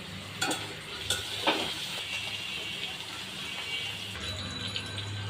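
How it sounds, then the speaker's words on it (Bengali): Eggplant and carrot pieces lightly frying in a pan, a steady close hiss and sizzle with a few sharp stirring scrapes of a spoon, continuing alone throughout. "এখন বেগুনটা আর গাজরটা হালকা ভেজে নিব"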